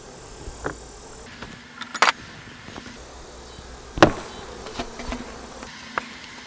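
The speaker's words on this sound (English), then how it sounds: "Quite a few bees on this bottom board here." Honey bees on a nuc hive's bottom board buzz steadily in the background, broken by several sharp clicks and knocks of beekeeping equipment, close by and with no talking.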